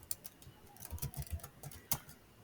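Soft, irregular key clicks tap away at close range in a quiet room, a few sharper presses standing out.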